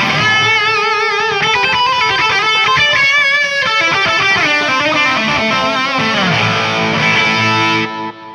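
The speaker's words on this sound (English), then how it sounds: "you hear more of the echo come in" An electric guitar plays a solo tone with added gain and long delay through a G-System effects unit: distorted sustained notes trail into layered repeating echoes, loud and continuous, before the sound cuts off near the end.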